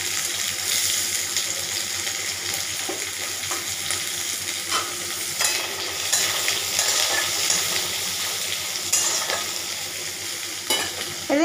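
Chopped onion and capsicum fry in a pan for paneer kofta, a steady hissing sizzle with occasional stirring scrapes, close and continuous throughout.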